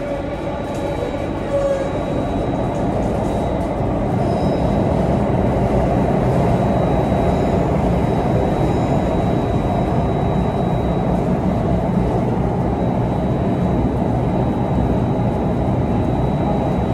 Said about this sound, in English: This train service will end at Harbour Front.